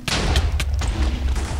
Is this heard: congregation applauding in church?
no